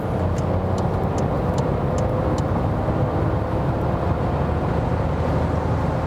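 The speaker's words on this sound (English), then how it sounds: "Let's see how it goes from 90 to 120 in the third gear, for example." A Skoda Fabia accelerates from 90 to 120 in third gear, its engine and road noise a steady, loud broadband drone throughout, heard from inside the car with no talking.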